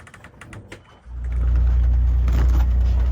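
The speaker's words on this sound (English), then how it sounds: "I'm just gonna continue with the motor" A small sailboat's motor starts up on a windless passage, a few light clicks and knocks giving way to a loud, steady low engine drone that runs close and constant to the end.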